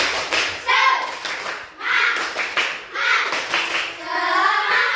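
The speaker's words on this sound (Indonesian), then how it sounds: "Agar lebih semangat kita kasih tepuk semangat" A primary school class at SDN 3 Terbis performs a rhythmic 'tepuk semangat' spirit clap in short patterned bursts, with children's voices chanting along between the loud, close claps.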